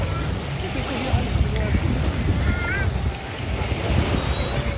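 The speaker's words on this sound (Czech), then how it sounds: "Teda vlny se s tebou krásně vlní." Sea waves wash continuously around a swimmer in warm water on a beach trip to Tunisia, with steady surf and wind noise close to the microphone while people talk over it.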